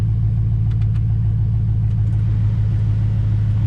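A truck engine idles steadily up close while warming up, a deep, even rumble that holds without change for the whole stretch.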